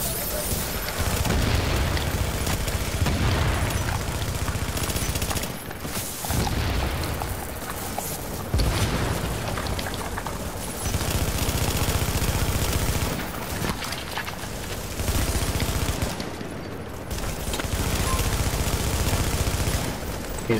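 Video game gunfire, including sniper shots, during a gas station rooftop manhunt: loud, sustained volleys of shots and booms roll on in long stretches broken by brief lulls.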